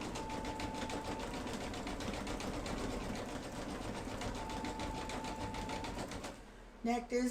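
A home embroidery machine stitches out a leprechaun calendar design, its needle thumping in a fast, even, close rattle for about six seconds before stopping, followed by a few brief clicks and knocks.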